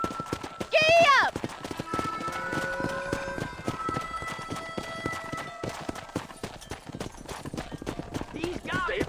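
A horse gallops in the Red Dead Redemption video game, its hooves pounding a steady, fast clip-clop close by, opening with a loud whinny, with spoken voices and game sounds mixed over the running hoofbeats.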